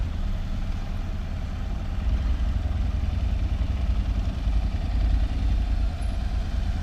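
A motorcycle creeps slowly around cones, its engine a low, steady idling rumble that stays fairly quiet and constant throughout.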